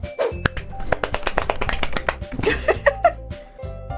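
Quick, uneven patter of light claps and taps in Doki Doki Literature Club over a bed of game music and tones, lasting a few seconds.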